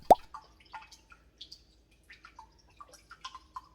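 Red wine vinegar is poured for a homemade Italian salad dressing, starting with a sharp plop and then scattered small drips and trickles that are quiet and close.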